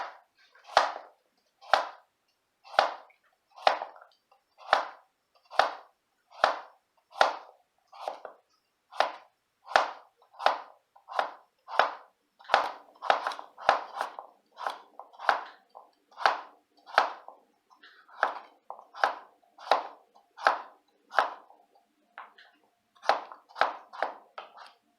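A knife chops carrots into quarter-inch rings on a cutting board, steady crisp thuds repeating about once a second, close and clear with no talk.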